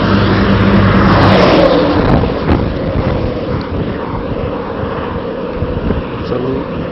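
Heavy trucks roar past on a highway over a 1972 pavement with a 1980 asphalt overlay, a loud close broadband rumble that peaks early and then eases into a steadier traffic drone.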